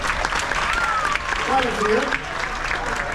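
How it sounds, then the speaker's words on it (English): An audience at a cruise port talk gives a round of applause, a steady wash of clapping throughout with a voice speaking briefly over it. "how many people went on the tour today by round of applause?"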